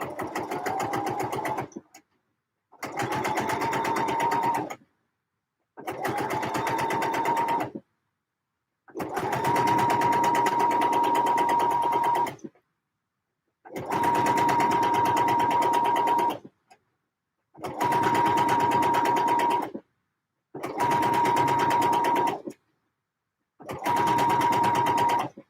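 A sewing machine understitches trousers in eight steady whirring runs, each a few seconds long, separated by short silent pauses, close and loud with a constant motor hum.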